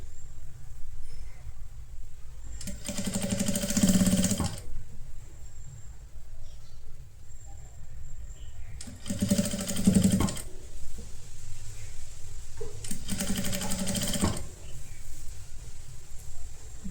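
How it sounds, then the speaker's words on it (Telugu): Sewing machine stitching along the folded edge of a kurti fabric: three short bursts of rapid mechanical whirring, a couple of seconds each, separated by quieter pauses with a faint background hum. "ఇట్లా ఫోల్డ్ చేసి ఈ ఎడ్జ్లోనే ఇంకొక కుట్టండి."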